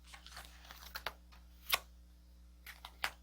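Tarot cards being shuffled, a few soft scattered riffles and card snaps with two sharper flicks, quiet and close with no talking.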